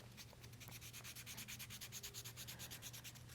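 Steady, continuous rasping of green 400-grit sandpaper worked back and forth across an Art Deco pendant, a fine abrasive scrub heard up close with a faint low hum beneath and no talk.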